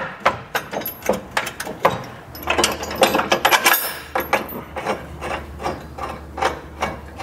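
A hitch bolt scrapes and clicks as it is worked through the frame and tow hook of a 2021 vehicle during an EcoHitch hidden front-mount receiver install, with a steady run of close, loud metallic clanks and ratcheting taps.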